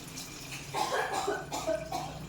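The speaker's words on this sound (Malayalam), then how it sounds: "വെള്ളം ഒഴിച്ച് കൊടുക്കാം." Water pouring into a pot of biryani rice, a steady splashing stream that rises in the middle and carries on close by, with no talk.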